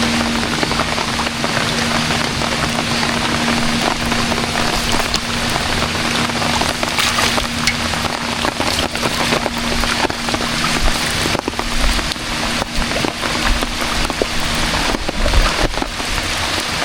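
Heavy rain pours onto a lake around a fishing boat, a loud steady hiss of drops on water and surfaces with a low hum underneath and no voices.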